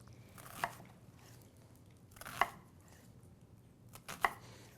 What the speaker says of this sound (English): we're going to go ahead and chop up some onions to saute